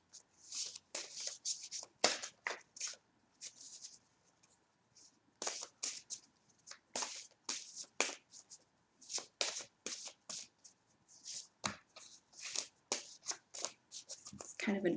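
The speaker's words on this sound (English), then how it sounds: "It's kind of an awkward deck to shuffle." A tarot deck, large and awkward to handle, is shuffled close by in repeated bursts of riffling and card slaps with short pauses between them, with no talking over it.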